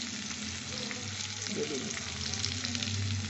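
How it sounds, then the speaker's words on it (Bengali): Chopped onions fry in oil for an egg and cauliflower curry, a soft steady sizzle close by with faint stirring movement and a low background hum throughout. "আমি একটু বেশি পেঁয়াজ কুচিয়ে দিয়ে দিচ্ছি"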